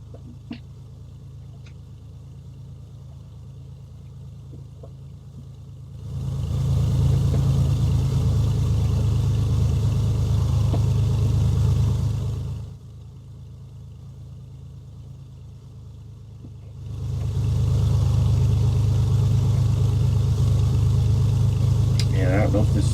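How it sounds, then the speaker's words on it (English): A Beechcraft A36 piston engine in Flight Simulator X runs at a steady low drone, then swells to a loud run-up roar twice, each held for several seconds before dropping back to idle. "we'll do our engine run up"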